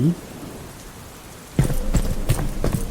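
A rain sound effect from a Thai audiobook of Resident Evil 3: Nemesis, set outside a hospital entrance, starts abruptly after a quiet stretch as a steady wash of rainfall with low rumbling swells beneath it.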